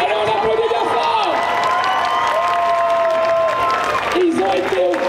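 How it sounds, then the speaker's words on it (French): At a cosplay parade during a geek convention in Angers, an audience applauds and cheers continuously while tonal music plays and a voice carries over the crowd noise. "on applaudit bien fort"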